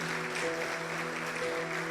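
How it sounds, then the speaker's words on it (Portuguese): A church congregation at a Sunday family service applauds in a continuous wash of clapping, moderately loud and steady throughout, with a faint sustained tone lingering underneath. "Você pode aplaudir o Senhor?"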